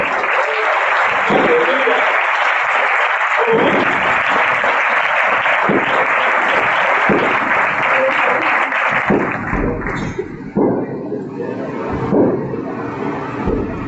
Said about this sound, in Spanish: Les voy a dar un aplauso al Rey bendito